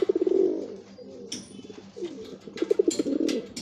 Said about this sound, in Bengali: সব পুরনো জেনারেশনের পায়রা দেখুন